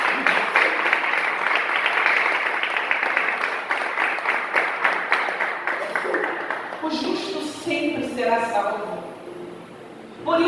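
A church congregation claps together during a sermon, a strong sustained round of applause that gradually thins out, giving way to voices and someone speaking toward the end.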